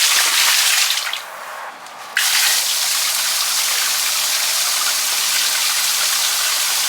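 A cheap, small water pump in a greenhouse sends out a loud, steady rush of flowing water, briefly dropping quieter before surging back to a constant gush.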